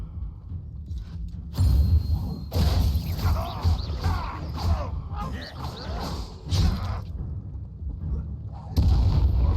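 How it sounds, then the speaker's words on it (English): Incendio fire spell cast in the video game Hogwarts Legacy, a series of loud, booming bursts and crackling blasts with spoken voices and game effects mixed through the clip. "Incendio!"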